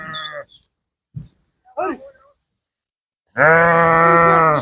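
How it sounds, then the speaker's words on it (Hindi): A large flock of goats and fat-tailed sheep gathers outdoors. Scattered bleats come first, with brief calls and gaps between them, then one long, loud, close bleat. "यहाँ पर बकरे और दुम्बों का बहुत बड़ा रेवड़ है"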